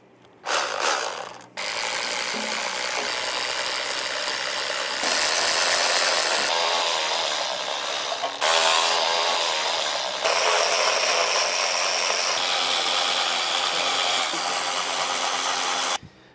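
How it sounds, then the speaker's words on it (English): Ratchet wrench clicking in long, fast, loud runs with brief pauses while removing parts from a Humvee engine during an engine swap, close and with no talk. "You want the ratchet that makes it go burr?"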